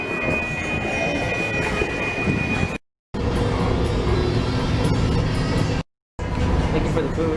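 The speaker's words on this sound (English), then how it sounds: "Oh, there's a train." A passing train rumbles steadily nearby with a thin, high wheel squeal running over the roar, broken by two short dropouts to silence.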